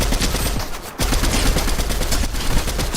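Rapid gunfire rattles in Fortnite, a dense, loud, continuous spray of shots with one brief gap, close and overwhelming, while a sniper fires at the player.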